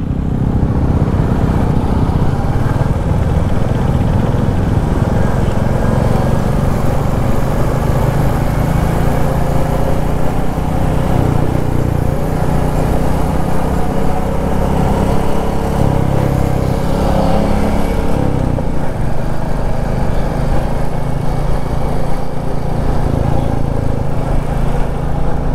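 A group of bikers rides on a road toward the Jonha and Sita waterfalls, their motorcycle engines merging into a loud, continuous drone with rushing wind throughout, no voices heard.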